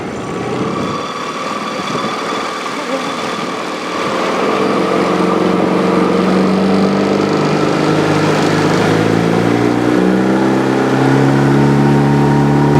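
A small dinghy outboard engine drones steadily throughout, its pitch rising slightly as it revs up partway, with wind and water noise underneath.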